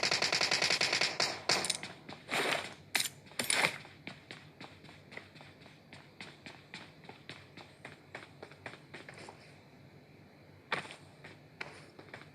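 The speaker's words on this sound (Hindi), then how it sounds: "अचानक से इन दोनों की गोली चलने की आवाज़ आई" Rapid bursts of gunfire from PUBG Mobile crackle in quick succession, loud at first, then thinning into scattered shots and clicks, no talking.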